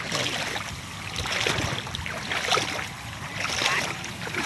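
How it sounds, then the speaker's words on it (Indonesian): A boat pushes through a flooded rice field during harvest, giving a continuous watery swishing and rushing, fairly close, with faint background noise. "Lagi panen pakai perahu nih"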